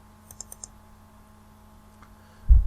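A computer mouse gives a quick double pair of light, sharp clicks at a desk, followed a moment later by another faint click and a louder thump close to the microphone.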